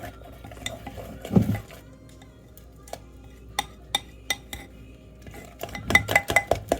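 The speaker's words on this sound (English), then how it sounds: "we're gonna stir that egg in as well" A utensil stirs eggs into blueberry muffin batter by hand in a bowl, giving soft scraping swishes broken by a series of sharp clinks and taps against the bowl, louder in quick bursts toward the end.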